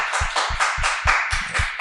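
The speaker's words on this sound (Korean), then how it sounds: "우리 박수 한번 쳐줘." A church congregation claps hands during a Sunday service, a quick, regular beat of claps from many people, fairly close and steady, with no talking over it.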